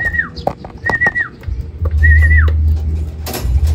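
Racing pigeons arriving home at the loft after a 120 km training toss in Plaridel, Quezon, with three whistling, rising-and-falling bird calls over a steady low rumble and some scattered knocks.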